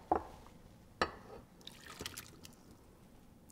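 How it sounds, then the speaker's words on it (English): Water from a pot of boiled potatoes pours and splashes briefly, then trickles faintly in a quiet kitchen. "You drain off most of the water, leave a little bit of water left in it"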